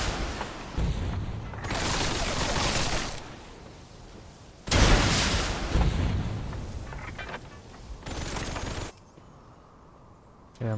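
Third-person gunfire in the video game Metal Gear Solid Delta: several loud, booming bursts of shots separated by short pauses, each cluster sharp and close, with a brief quieter gap near the end.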